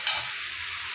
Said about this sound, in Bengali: আমি এতে রাইসটা দিয়ে দিচ্ছি।